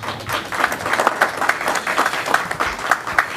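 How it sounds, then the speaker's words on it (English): A room of attendees at an internet exchange point technical session claps after the presenters finish, a lively, fairly loud round of applause with sharp individual claps close by, continuing without voices. "Let's give them a round of applause."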